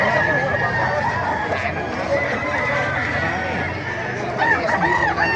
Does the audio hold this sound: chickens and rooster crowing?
yes